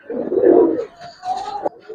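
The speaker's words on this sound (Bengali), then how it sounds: "এখন একটু গ্রিবাস কবুতর দেখাবো, ছাড়া ছাই লাইনের কবুতর।" Giribaz pigeons coo up close in two short, soft, throaty phrases with a brief pause between them, with no other sounds around.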